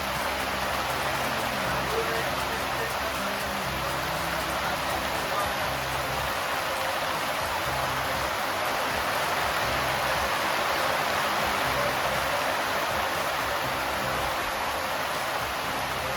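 Heavy nonstop monsoon rain falling in Goa, a dense, steady hiss of downpour drumming on surfaces all around, unbroken and fairly loud throughout.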